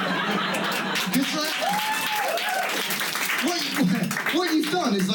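Comedy club crowd at Angel Comedy Club in London clapping and chuckling, with the comedian's voice talking over the applause throughout.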